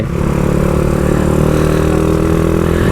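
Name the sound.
motorcycle being ridden into the house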